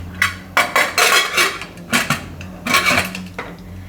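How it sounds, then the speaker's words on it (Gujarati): A pressure cooker lid is fitted and closed on a pot of chickpeas over a gas stove. It gives a run of loud, close metallic clanks and clinks in uneven bursts, with short gaps between them. "અને કુકરનું ઢાંકણું બંધ કરી દઉં."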